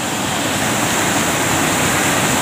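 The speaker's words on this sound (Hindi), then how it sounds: "वही ये झरना पूरा एकदम ज़्यादा गहरा है" Waterfall at Labed dam, a deep cascade throwing up spray, roars as a loud, steady, broadband rush of falling water with no break, close and alone with no voices.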